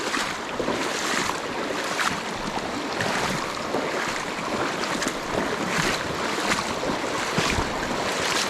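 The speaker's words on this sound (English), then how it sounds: "Sorry about the rushing water," A creek or river rushes steadily and close by during a riverside hike, a dense, continuous wash of water that fills the whole stretch with no talking over it.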